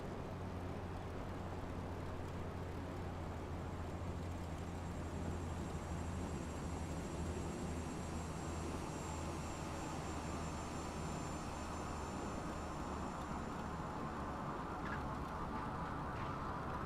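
Biplane engine droning steadily during a windy landing in Microsoft Flight Simulator 2024, a continuous low hum with a faint high whine, unbroken and fairly quiet throughout.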